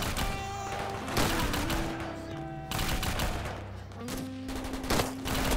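Sustained bursts of rapid gunfire in the war shooter game 7554, played PUBG-style, crackling loudly and almost continuously with brief lulls, layered over steady sustained musical tones.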